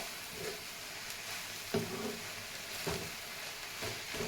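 Lehheti greens frying in a pan for a fish and sour potato dish, giving a steady soft sizzle with a few sharper crackling bursts, close and alone without talk.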